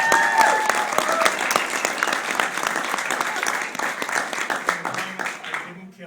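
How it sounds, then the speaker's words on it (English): Audience applause at a film Q&A for Dr. Giggles fills the room with dense, steady clapping, loud at first and fading out near the end, with some crowd voices mixed in. "Another round of applause for that."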